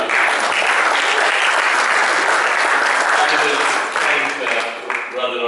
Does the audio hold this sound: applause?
yes